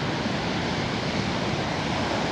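Sea waves wash against an eroding beachfront in a steady, broadband roar that holds constant and fairly close, with no voices.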